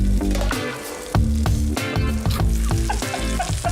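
Beef steaks frying in a pan, sizzling loudly and continuously close to the mic, with a clatter of pan and utensil movement now and then and no talking.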